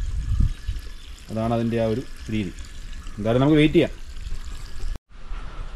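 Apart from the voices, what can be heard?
water pouring into a tarpaulin fish pond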